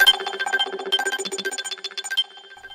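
A Hit and Run synth mallet preset plays a bass part in a quick run of short, plucky, evenly spaced notes, moderately loud and heard alone for under three seconds.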